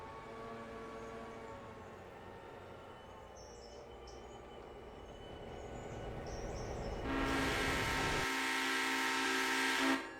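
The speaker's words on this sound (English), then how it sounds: "Billy back down to Whittier Yard and we can do the final bit of shunting." A locomotive shunting at Whittier Yard in the Railroader simulation game gives a quiet, low rumble that slowly builds, then a sustained horn blast over the last few seconds.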